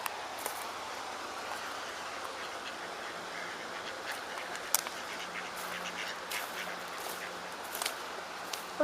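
Ducks quack faintly at a distance outdoors, in a quiet spot where bikes are chained up, with scattered calls over a steady hiss of background ambience.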